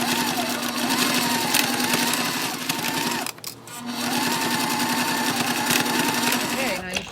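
A sewing machine stitches a waist bag with two runs of steady, close, rapid whirring separated by a brief pause near the middle.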